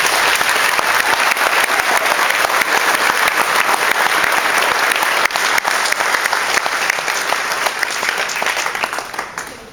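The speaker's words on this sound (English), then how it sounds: "put your hands together now in applause to recognise them and thank them for it" A large audience claps continuously at a valedictory speech, a dense, loud wash of applause that holds steady before tapering slightly toward the end.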